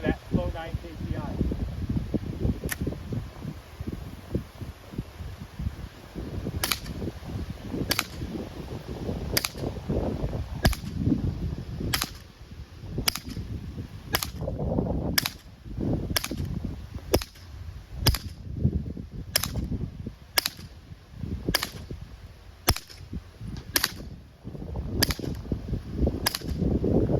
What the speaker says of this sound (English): this is now the rugged Obsidian 9, and I'm going to see how this one sounds